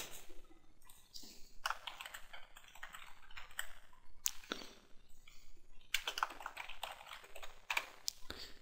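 Typing on a computer keyboard while entering a title in a Drupal 7 image gallery, heard as close, irregular bursts of crisp key clicks and taps with short pauses between them.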